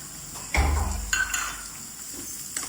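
Chopped onions are tipped into a pan of green turmeric curry cooking in ghee and stirred, giving a sudden loud scrape and sizzle, then a second stir, with the frying settling to a softer hiss.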